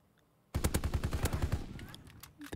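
Sustained automatic fire from a BAR rifle in the Call of Duty WWII video game: a loud rapid burst of evenly spaced shots starting abruptly, then tailing off into echoing fainter reports.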